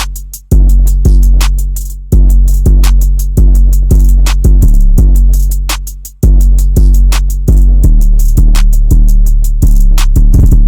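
An 808 bass drum pattern, with loud, booming, sustained sub-bass hits landing in a syncopated rhythm under crisp hi-hat ticks, and a quick roll of repeated hits at the end.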